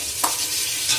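Spice masala fries in oil for a dhaba-style mixed-veg Kolhapuri curry while a spoon stirs it. A loud, close sizzle carries a scrape near the start and another near the end.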